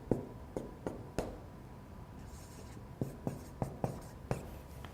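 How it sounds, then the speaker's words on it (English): Marker or pen strokes on a whiteboard sketching a circle, a series of short squeaky taps and scratches at an uneven pace, close and fairly faint, with no talk. "I'll draw it real quick."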